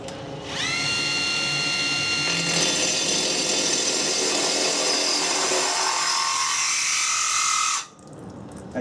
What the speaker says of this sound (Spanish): Vamos a hacer una perforación con la llave de impacto, con la broca Milwaukee de 1 pulgada.